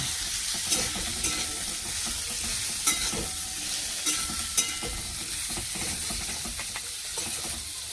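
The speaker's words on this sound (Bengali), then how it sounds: "নেড়ে নেব।" Food fries in a pan with a constant sizzle while a utensil stirs it, giving several sharp scraping knocks spread through the clip, close and clear with no talk.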